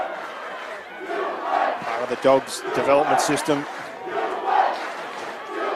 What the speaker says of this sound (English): Crowd plenty involved in this one.